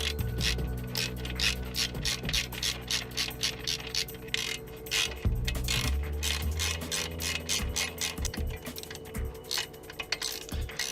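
Rapid ratchet wrench clicks while bolts are loosened on a Honda CB500X motorcycle during a Rally Raid adventure build, in bursts of fast clicking with short pauses and some metallic clanks, close and loud.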